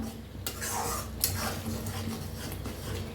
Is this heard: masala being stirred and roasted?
yes